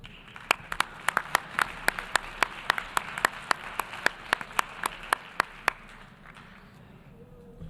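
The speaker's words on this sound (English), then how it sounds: "So another round of applause," Sharp, distinct claps ring out in a steady rhythm over a soft wash of crowd applause in a large assembly hall at a closing ceremony, the rhythmic clapping fading toward the end.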